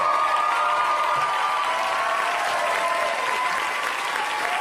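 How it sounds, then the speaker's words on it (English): Audience at a stand-up comedy show applauding steadily, with some cheering mixed in. The dense clapping stays loud and even throughout, with no talk heard over it. "Give it up for Jamie Lissow, Zainab Johnson, John Huck, and"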